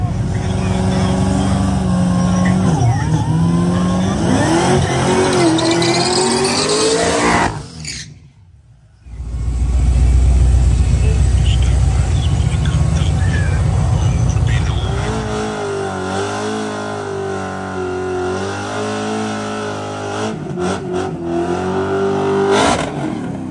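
A stick-shift Mustang revs loudly at a drag race, engine rising and falling in bursts, then a heavy deep roar after a short gap, with someone talking over parts of it.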